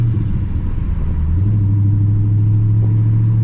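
A manual six-speed car driving along just after a shift into third gear, with a steady, loud engine drone and low road rumble whose pitch settles and holds, no talk over it.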